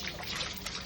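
Water trickles and splashes over a puppy during a bath, a short, soft, close pouring sound with no talk over it.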